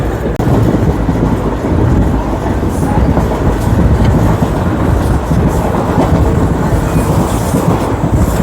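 Tungabhadra Express runs on Indian rails near Wanaparthy Road station, a loud continuous rumble and roar of wheels and carriages that holds steady throughout, close and heavy.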